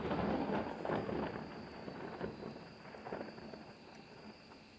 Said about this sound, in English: Let the storm pass over.